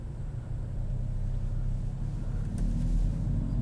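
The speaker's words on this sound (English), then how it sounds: "Getting started again, off the brake, slowly releasing the clutch" A 2021 Kia Forte with a manual transmission pulls away from a stop as the clutch is slowly released, giving a steady, close, low engine rumble that swells slightly near the end.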